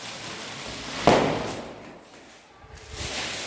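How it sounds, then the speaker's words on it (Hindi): A single sharp Diwali firecracker bang pops once, loud and close, then fades into a quieter hiss. "ये एक्सपेरिमेंट वाला पटाखा"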